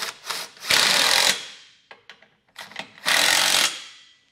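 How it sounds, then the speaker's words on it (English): Bolts on a Curt trailer hitch receiver going onto a 2023 Honda Odyssey frame are tightened with a 19 mm socket, giving bursts of ratcheting and impact-like buzzing, two longer loud runs separated by short clicks and pauses. "So with our 19s, I'll go ahead and snug this down first."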